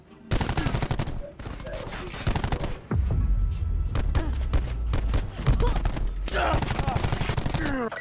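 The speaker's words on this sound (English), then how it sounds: "You were shooting him in his kneecaps." Rapid bursts of automatic gunfire in a shooter video game, loud close volleys with a short pause in the middle, joined by heavier booming fire, and players' voices talking alongside.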